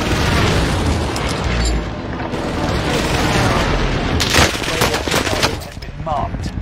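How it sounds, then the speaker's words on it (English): A precision airstrike in a battle royale video game sets off dense, loud booms and rapid gunfire bursts layered over each other, with players talking over the barrage. "Allied precision airstrike."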